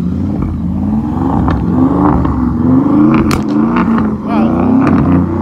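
A car's loud exhaust revs at a rooftop car meet, with a deep, close engine rumble that swells and rises in pitch over a few seconds.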